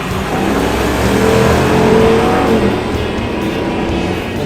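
A Ram Power Wagon's V8 engine roars steadily under heavy throttle, a loud, sustained rumble with no speech over it.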